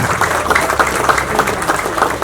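An audience applauds a newly elected student organisation chairman at a village visit, dense steady clapping from many hands, loud and continuous throughout.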